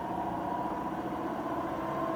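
Trak DPM5 CNC vertical bed mill from 2004 running steadily in low gear at around 200 RPM, a continuous close machine hum and whir with no pauses and no voices.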